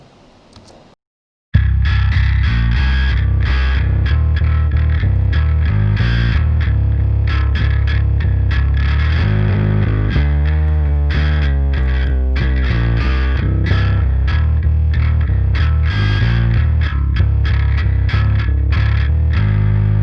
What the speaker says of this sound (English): what distortion does is it basically makes bass louder